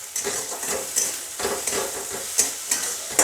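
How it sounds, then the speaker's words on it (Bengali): Potatoes frying in hot oil in a pan while cooking khesari greens, with a steady close sizzle and rhythmic stirring scrapes at irregular intervals, no voices. "আমি আলুগুলোকেও খুব ভালো করে ভেজে নেব"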